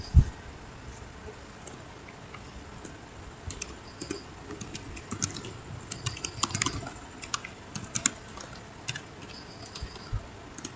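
Continuous computer keyboard typing of switch configuration commands during Cisco network setup, a steady patter of close key clicks with occasional louder strokes running throughout.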